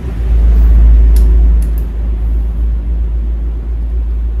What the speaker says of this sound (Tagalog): marami pa rin dumadaang sasakyan guys